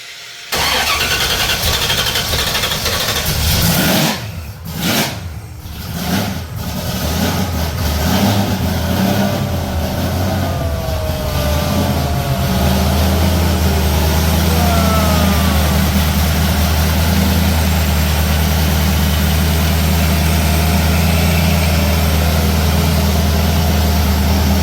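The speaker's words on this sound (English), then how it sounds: "you can just turn the key and start the car" A 1966 Chevy Nova cranks briefly, catches and fires up, then settles into a loud, steady, rumbling idle close by with slight rev fluctuations.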